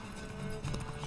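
Horse galloping in The Witcher 3, quick rhythmic hoofbeats over a steady game background, faint and brief.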